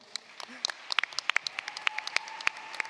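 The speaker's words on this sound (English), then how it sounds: "Please give them a round of applause." An audience at a model UN conference closing ceremony claps: scattered, sharp individual claps build into a thin, uneven round of applause, close by.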